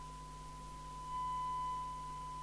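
Steady pure sine-wave test tone from a Binatone 5-Star CB27/81 UK FM CB radio being aligned, one continuous even pitch with faint fainter tones beside it, quiet and unchanging throughout.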